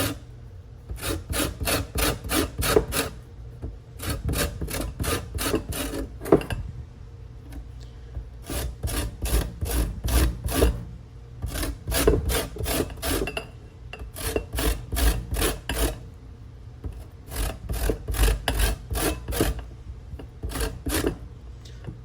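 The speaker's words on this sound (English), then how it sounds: "I'm just gonna rotate and get this zest of this lime as best as I can" A lime is zested by hand on a grater, making repeated rapid rasping strokes in quick bursts with brief pauses between them, close and fairly loud.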